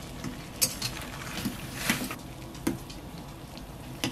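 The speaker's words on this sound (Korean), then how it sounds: "끓을 때까지 기다리지 마시고 한 번만 뒤적거리고 바로 건져줍니다." Light scraping and clinks of a utensil against a pot while shredded oyster mushrooms are stirred in boiling water, soft irregular knocks over a faint bubbling background, close by.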